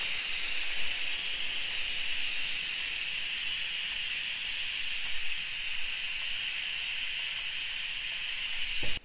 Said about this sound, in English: Let's release the pressure here.